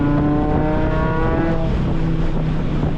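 A Mk5 Jetta accelerates hard on a race track, its engine droning loud and close with a steady rising tone throughout.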